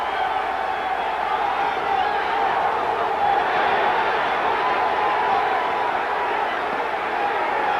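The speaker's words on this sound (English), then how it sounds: "Crowd trying to pick Whitaker up." A boxing arena crowd roars steadily during a 1986 bout between Pernell Whitaker and Alfredo Layne, a broad, sustained swell of cheering and shouts filling the hall.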